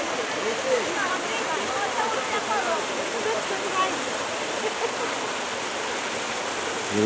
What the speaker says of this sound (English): We are at a little waterfall.